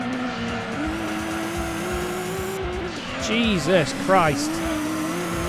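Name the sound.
race car accelerating and tires squealing in video game Gran Turismo 2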